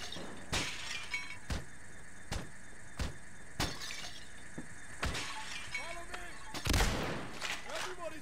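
Repeated sharp glass-smashing impacts in the Payday 2 video game, roughly every half second to second, loud bursts with scattered chatter and game sounds in between, ending in a larger crash.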